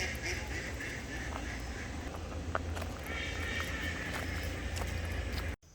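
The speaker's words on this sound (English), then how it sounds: "So many ducks." Ducks quack steadily along a creek at an RV park campground in Edinburg, Virginia, with scattered calls over continuous outdoor background noise.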